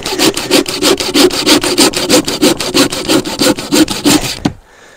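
A hand saw cuts through freshly felled pine outdoors in a quick, even rhythm of about twenty close, loud rasping strokes, then stops abruptly.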